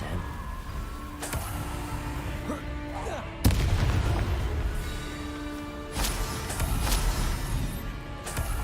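Bombarda and Confringo explosion spells cast in Hogwarts Legacy, a sharp blast followed by a rumbling boom, then a second explosive burst, loud against a steady background of game music and ambience.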